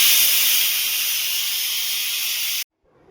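A pressure cooker cooking dal for puran poli hisses steam loudly and steadily at close range. The hiss then cuts off abruptly, leaving near silence.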